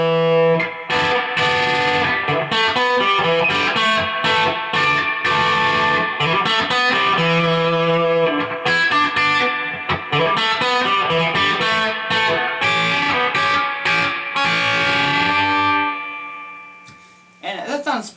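Bright, twangy electric guitar with a clean single-coil tone, a Charvel So-Cal, plays plucked notes and chords continuously, fading out near the end.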